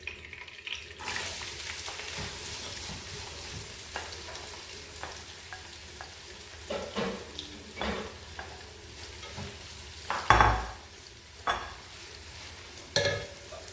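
Onions fry in ghee in a pot for mutton biryani, giving a soft, steady sizzle with repeated scraping stirs of a spoon, and a few louder knocks near the end.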